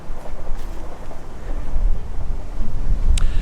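Gusty wind buffets the microphone outdoors beside an old church in East Sussex, a loud, rumbling, uneven roar that swells and surges without any talk.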